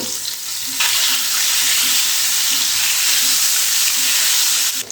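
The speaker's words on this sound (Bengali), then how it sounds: "তখন এর মধ্যে একটা একটা করে ডিম দিয়ে ভেজে নিতে হবে" Boiled eggs frying in hot oil in a wok, a loud, dense sizzle that surges up abruptly and holds steady, with faint stirring underneath.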